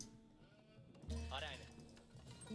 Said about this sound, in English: I just picked up 8 sheep around my base.